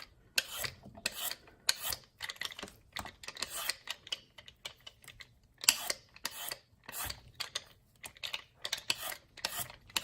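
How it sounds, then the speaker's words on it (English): A yellow squash is being peeled in a home kitchen, making quiet, rhythmic rasping scrapes in short bursts with brief pauses between strokes, close and soft. "So with this, I'm just going to trim the ends, and then I'm going to peel this also."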